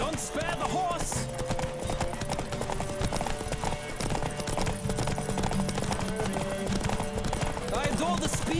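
A horse gallops in a race in the video game The Witcher 3, its rapid, steady hoofbeats running the whole way beneath game music and people talking.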